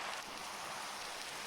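Rain falling in a survival-crafting game, a steady soft hiss of dense drops filling the whole moment evenly with no pauses, fairly quiet and heard alone without voices.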